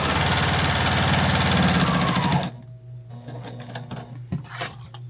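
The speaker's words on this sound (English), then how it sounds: "I'm just going to stitch around all of these layers" A sewing machine runs steadily, stitching through several layers of fabric for a patriotic fabric flag, with a fast mechanical whir for about two and a half seconds before stopping, then a few light handling clicks and taps.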